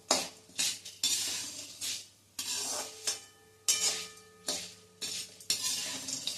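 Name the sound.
stirring fenugreek seeds roasting in a pan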